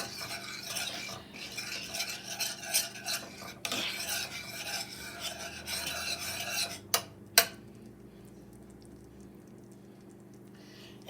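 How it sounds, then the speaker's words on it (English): Meatloaf ingredients are stirred and mixed in a pan with rough scraping and rubbing strokes, close and fairly loud, ending with a couple of sharp knocks before the mixing stops and it goes quiet. "we're going to mix this well"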